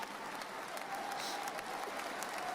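Ovation from an audience gathered in the Capitol Rotunda for Donald Trump's inauguration: a steady, fairly faint wash of applause from a large crowd heard at a distance, continuous throughout with no talk on top.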